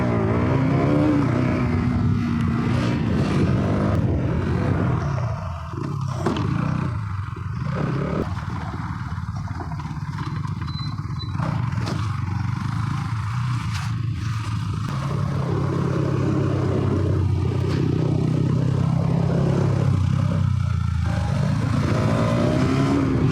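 A motorcycle engine revs loudly and continuously for a wheelie, a sustained throaty roar rising and falling with throttle on a group ride, close and without speech.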